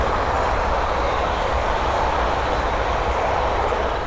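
A pair of London Northwestern Railway Class 350 electric multiple units passing at Linslade on the West Coast Main Line, a loud, steady rushing rumble that sustains throughout.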